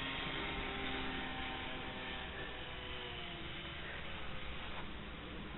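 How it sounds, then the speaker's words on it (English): A radio-controlled model airplane flies at full power, its motor a continuous, even drone that holds steady throughout without breaks, fairly faint and heard from a distance. "I love that plane on full power and high rates."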